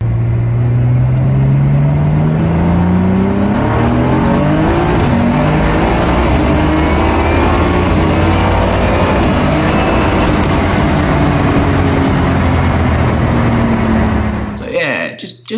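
A BMW E30 X-Drive with a DCT gearbox swap accelerates hard, its engine note climbing steadily through the gears, loud and close with a whining rise, ending abruptly.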